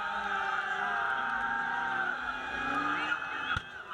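A car does a burnout, roasting its tires in a long, sustained squeal that holds steady for several seconds, loud and close, with crowd noise faintly beneath.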